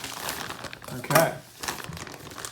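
Plastic packaging around a pair of Supreme gloves crinkles and tears open in one sharp burst, with a person talking throughout.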